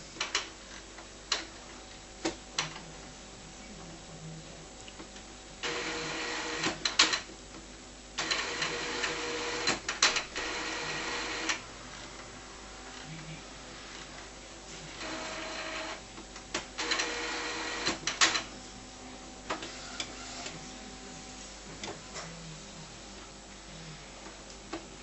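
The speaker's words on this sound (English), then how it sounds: "we've got to switch the printer on and it will go through its setup procedure" An Epson R285 inkjet printer powers up and runs its setup routine, with several bursts of close mechanical whirring and grinding separated by quieter stretches of soft ticking.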